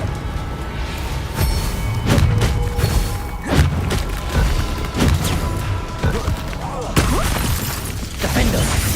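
Blasting Confringo spell bursts in the Hogwarts Legacy video game, a series of sharp explosive cracks and thuds at irregular intervals amid ongoing battle noise, with a voice calling out spells over it.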